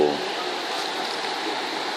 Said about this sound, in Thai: มีน้ำตกเล็กๆ